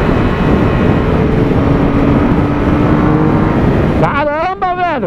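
A 2016 Triumph Speed Triple 1050R motorcycle runs with a loud, steady engine drone and rising pitch, then near the end revs sharply in quick, strong bursts of acceleration.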